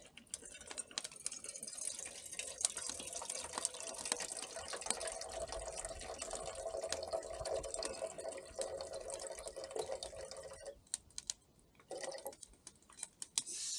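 Water pours steadily into a measuring container at a campsite, a continuous close splashing fill that stops briefly near the end before a short final trickle.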